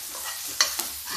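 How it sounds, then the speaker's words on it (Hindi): Okra fries in a pan over a low flame, giving a soft, steady sizzle. A couple of brief scraping stir strokes come through close by, with no talking. "गैस हम करेंगे स्लो और इसको धीमी आंच पे हम फ्राई करेंगे"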